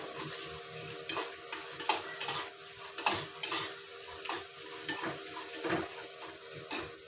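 Four dry red chillies frying in oil in a non-stick pan, a soft sizzle under repeated scraping and clinking strokes of a metal spoon stirring, close and fairly loud.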